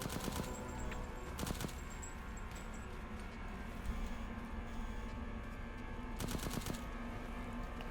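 Automatic gunfire from Resident Evil Village in two short, sharp bursts separated by several seconds, set against a steady game ambience with no talking.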